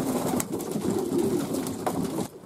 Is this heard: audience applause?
no